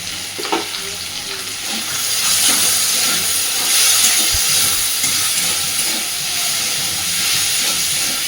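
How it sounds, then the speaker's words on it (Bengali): Potatoes fry with turmeric in a hot pan, a loud steady sizzle and hiss with soft stirring clatter throughout, close up and without any talking. "সুন্দর করে আলুটাকে একটু ভেজে নেব।"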